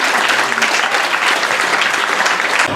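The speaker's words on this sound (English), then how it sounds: "First, give yourselves a round of applause." A meeting audience gives a round of applause: dense, continuous clapping from a group, fairly loud and close, lasting about three seconds before cutting off.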